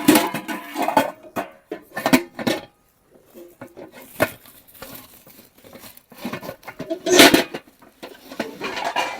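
Metal utensils and pots clattering and clinking as they are gathered and bundled up in a village home packing ahead of a flood, bursts of rattling and scraping with pauses between handlings.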